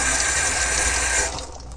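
Water from a tap runs steadily through a small colander of sesame seeds as they are rinsed, then the flow eases off near the end.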